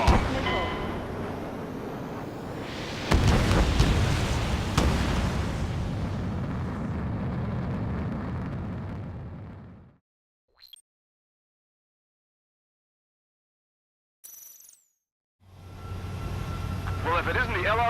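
Missile blasts and roaring jet combat in Ace Combat 7, with an F-35C over a downtown area, as a loud sustained rumble with a heavy burst near three seconds that fades to silence around ten seconds, then roars back briefly near the end.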